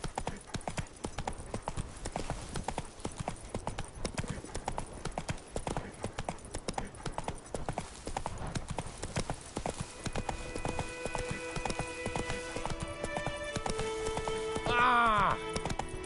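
Roach the horse gallops in The Witcher 3, her hooves drumming in a fast, continuous rhythm. Near the end, tonal game sounds and a short whinny-like cry rise over the hoofbeats.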